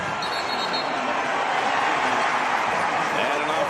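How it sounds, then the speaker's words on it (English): A college basketball crowd at a 2019 MEAC men's tournament game between South Carolina State and Norfolk State roars steadily, a dense, loud arena wash of cheering without a break. "And now the crowd is coming back into it."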